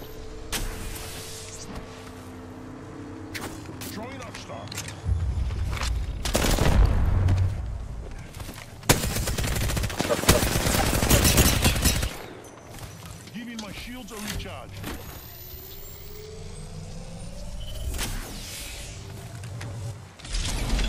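Gunfire in the video game Apex Legends, bursts of rapid shots and heavy blasts in clusters amid chaotic game noise, with a person talking over parts of it.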